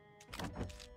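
A car being hotwired and cranked to life in Project Zomboid, a short burst of starter whir and engine catch rising over about a second, loud and close with no talk.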